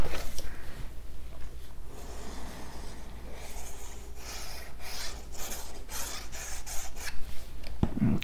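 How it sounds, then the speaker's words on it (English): Steady rasping rub of a bone folder burnishing down a freshly glued paper flap on a Valentine trifold card, continuous scraping strokes close to the mic with no talk. "Okay, and just burnish that down really well. Let the tool do the work instead of my hand."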